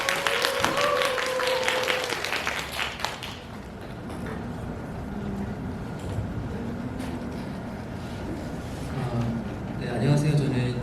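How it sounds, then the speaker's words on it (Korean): A lecture-hall audience at an animation school event gives a short burst of clapping that fades after a few seconds, followed by quieter room noise, light shuffling and a brief scatter of claps near the end. "박수 부탁드립니다."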